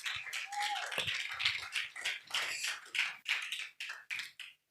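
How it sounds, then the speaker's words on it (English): Audience clapping at the EHALAKASA SheShe Slam 2026 poetry event, a steady, dense patter of many hands filling the room without pause, with faint voices underneath. "Let's keep clapping until she gets here."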